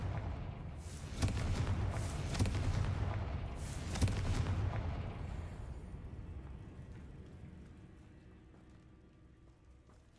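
A Confringo blasting spell in a Hogwarts video game erupts in loud booming blasts, with heavy bursts near the start and around four seconds, then a rumbling roar that fades over the following seconds.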